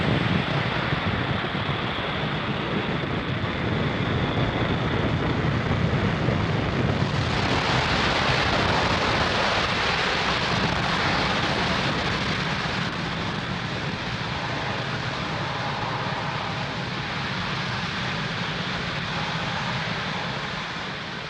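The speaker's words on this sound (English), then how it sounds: "And liftoff of Falcon 9." A Falcon 9 rocket lifts off from Pad 40 at Cape Canaveral Space Force Station on a GPS satellite mission, its engines a continuous heavy roar that swells louder midway and holds steady throughout.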